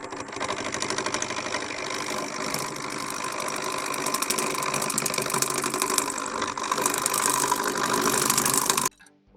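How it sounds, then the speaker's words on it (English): A skew chisel rides the bevel while cutting wood on a lathe, giving a loud, continuous scraping whir with the spinning workpiece underneath. It holds steady for about nine seconds and cuts off abruptly at the end. "Now I'm going to ride the bevel."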